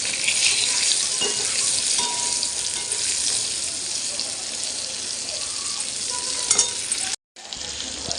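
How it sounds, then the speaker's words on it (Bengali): Pointed gourd (potol) pieces frying in oil in a pan, a dense, steady sizzle with stirring scrapes close up, dropping out briefly near the end before resuming, no talking. "এবার পটলগুলো দিয়ে দেবো ভাজতে"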